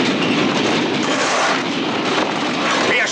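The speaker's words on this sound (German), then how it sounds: "Der Zug! Jetzt kriegen wir ihn!" A steam locomotive hauling a train roars past close by, a dense continuous rumble with clattering wheels and hiss holding steady loud throughout, no talk.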